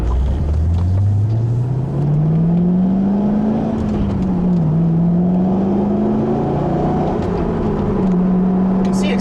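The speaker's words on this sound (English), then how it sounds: "You can see acceleration for this car is just great" A Chevrolet Corvette accelerates hard, its engine note climbing steadily in pitch through the revs, easing briefly between shifts, then holding a strong, loud drone heard from inside the car.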